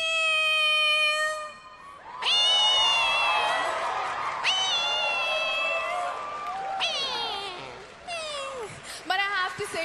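A voice imitates a cat with a series of drawn-out, rising and falling meows on stage at the Miss Universe 2021 pageant, loud and close, with brief crowd noise near the end.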